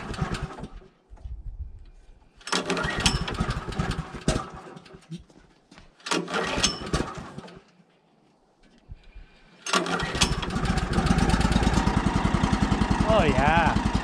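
The engine of a Woodland Mills HM130 Max sawmill runs at half choke, firing in rough bursts that cut out and catch again, then settles into a loud, steady, close running drone.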